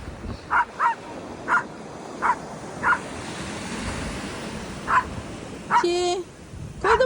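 A dog barks at the seaside over the wash of waves, giving about eight short barks in irregular bursts, fairly close, with a brief higher yelp or call near the end.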